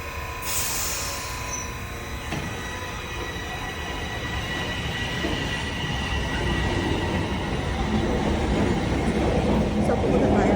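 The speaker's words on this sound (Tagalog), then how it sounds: "Ang para sa 8:34 yung train daw ay 2 minutes pa." A train rolls into a station, a low rumbling roar that builds steadily with wheel squeal and rail noise, close and loud, while voices talk faintly underneath.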